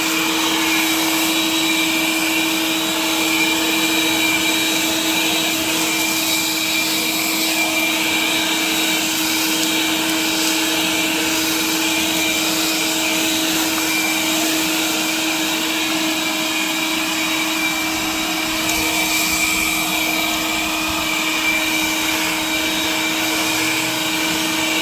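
A Bauer cordless leaf blower runs steadily at close range, giving off a loud, even whine with a high motor tone that holds throughout and briefly rises near the end, with no voices.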